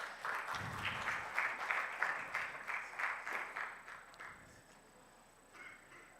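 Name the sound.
applause at a conference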